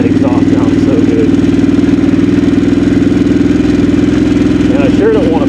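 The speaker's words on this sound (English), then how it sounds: "that exhaust sounds so good." A 2022 Harley-Davidson Sportster S exhaust idles on loose gravel with a steady, deep, throbbing rumble throughout, loud and close, with faint voices briefly audible over it.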